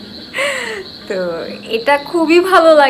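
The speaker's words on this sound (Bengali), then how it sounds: "আমাদের বাসার পাশে ঝিঝি পোকা ডাকে," Crickets near a house at night in Dhaka keep up a steady, high, unbroken trill beneath someone talking nearby.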